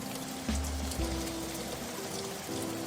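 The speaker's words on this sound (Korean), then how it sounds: "며칠째 계속해서 비가 내리는 계절이 왔어요." Rain falls in a steady soft patter with scattered drops, heard under low sustained musical tones throughout.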